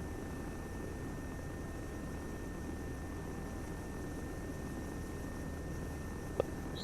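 Transport helicopter in Arma 3 flying over a Malden map, a steady droning rotor and engine hum held at even volume throughout, with one sharp click near the end.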